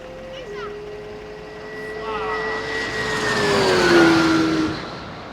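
A McLaren Senna GTR race car drives on the track at Sebring International Raceway, its engine whine rising as it approaches and dropping in pitch as it roars past, then fading.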